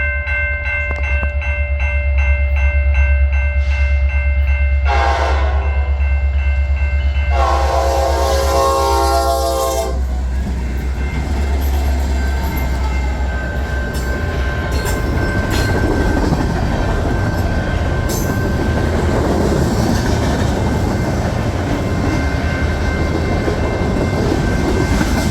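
A former BNSF SD70 Max locomotive, number 8863, leased to NS, sounds two loud blasts of its horn over a heavy diesel roar, then rolls past with a steady rumble and clatter of railcars.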